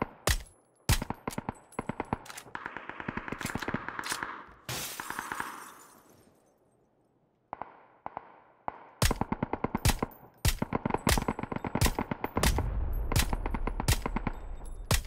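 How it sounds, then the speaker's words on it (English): Suppressive gunfire from a VSS rifle in a video game: bursts of sharp, loud suppressed shots in rapid runs, a brief pause around the middle, then dense repeated volleys with glassy impacts, no talking. "Suppressive fire with the VSS."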